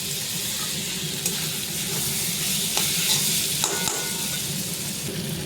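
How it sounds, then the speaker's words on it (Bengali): Ivy gourd and potatoes with spices being stirred and fried in a pan, giving a continuous close sizzle with soft scraping strokes running throughout, alone and without speech. "এদিক ওদিক সেদিক করে যেমন খুশি নাড়াতে থাকুন"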